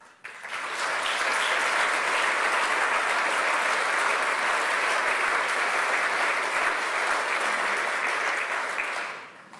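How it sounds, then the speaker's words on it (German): A large audience at a Bernd Lucke political speech in Hamburg claps loudly and steadily for about nine seconds. The applause swells quickly at the start, holds as a dense, even roar, then fades out abruptly. "ich hätte gar nicht gedacht, dass Sie Frau Merkel so viel Beifall spenden, wie Sie es gerade getan haben"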